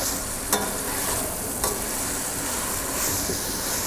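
Peppers simmering at a slow boil in a pan for Veracruz-style fish, a steady close bubbling hiss with a couple of brief utensil clinks, no talking.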